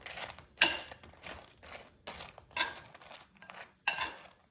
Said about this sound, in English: So now let's toss it. So shrimp is coated evenly with a spicy sauce.